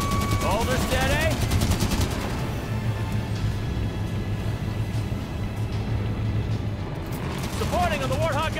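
A Warthog turret machine gun fires in the Halo 5 video game, a dense, loud, steady rattle of gunfire that goes on throughout. Explosions and voices are heard alongside it.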